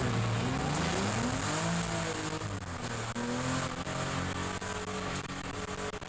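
BMW race cars accelerate hard out of pit lane at Hampton Downs circuit, engines loud and close, rising through the revs in overlapping sweeps with shifts between gears.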